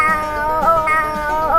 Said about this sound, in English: It's my crazy cat.